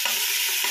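Beef fat and cooking oil sizzle hot in a pan as sautéing begins for beef pares, a brief, bright, dense crackle heard up close with no talking.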